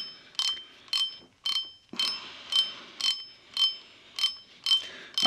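Spinning-reel spool being loosened and turned: a steady series of about ten clicking ratchet bursts at an even rhythm, each a short metallic whirr, close and clear with no talk.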